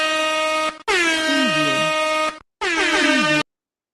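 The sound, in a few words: air horn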